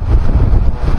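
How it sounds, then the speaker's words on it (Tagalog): Strong early-morning wind buffeting an outdoor microphone, a loud continuous low roar with gusty fluctuations and no voices. "Kusog hapon hangin guys."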